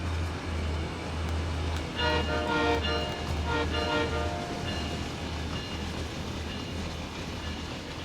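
A CN train in Train Sim World 6, on the Ontario line, drives past with a steady low rumble of wheels and cars, joined midway by a few loud tonal horn blasts, with no voices.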